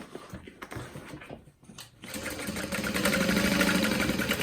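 A sewing machine stitches a tote bag, starting with sparse, quiet clicks and a pause, then running steadily and loudly at close range with a continuous mechanical whir and no talking.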